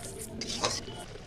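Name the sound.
stirring cumin, coriander and chilli powder frying in pan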